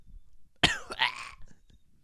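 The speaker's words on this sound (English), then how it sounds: "I coughed right into the mic." A single sharp cough straight into a microphone, loud and close, followed by a short throaty rasp in an otherwise quiet podcast setting.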